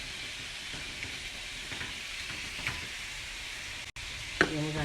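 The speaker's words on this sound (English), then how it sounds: "Then we're going to continue to saute it." Vegetables sautéing in a pan seasoned with Goya seasoning and dried parsley give a steady close sizzle with light stirring and scraping, interrupted by a brief gap and a small clank near the end.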